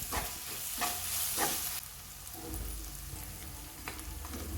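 Ginger-garlic paste fries with onions in a pan for a potato and drumstick curry, a soft continuous sizzle with repeated stirring scrapes, fairly quiet and close, with no talking.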